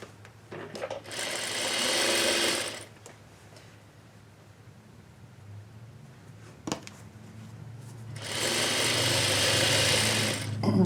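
Sewing machine stitching a fabric pillow made from quilt scraps, running in two steady buzzing bursts of a few seconds each with a quiet pause between, close and loud.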